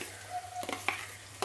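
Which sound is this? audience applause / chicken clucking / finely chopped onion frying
finely chopped onion frying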